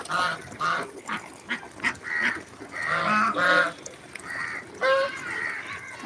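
Ducks on a home farm, splashing about where there is water, give a run of loud, nasal quacking and honking calls in irregular bursts, fairly close, with other birds and faint voices mixed in.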